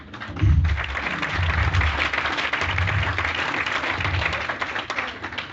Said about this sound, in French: comme notre cher rabbin Kassavi qu'on peut applaudir très fort.